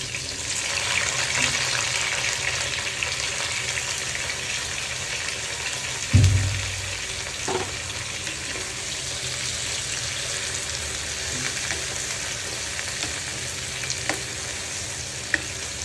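Parboiled vegetables for a Chinese vegetable stir-fry crackling in hot oil: a constant close sizzle with a thud as they drop in around the middle, then steady frying with occasional stirring knocks.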